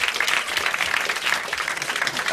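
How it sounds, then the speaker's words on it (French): A studio audience claps in sustained applause, a dense wash of many hands, fairly close and continuous throughout. "Vous pouvez applaudir."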